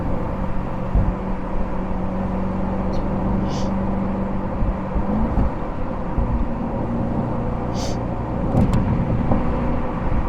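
An Audi RSQ8 performance SUV drives at speed with a loud, steady engine and road roar, the engine note shifting pitch as it pulls, with a few brief higher hisses.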